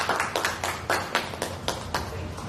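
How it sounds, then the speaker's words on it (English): Sparse clapping welcoming a guest speaker, around ten distinct claps in an uneven rhythm from only a few hands, close and moderately quiet with no other sound. "Please help me welcome Miss Fatima Mann. Round of applause."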